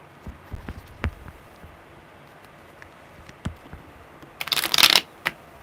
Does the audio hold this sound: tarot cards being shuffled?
yes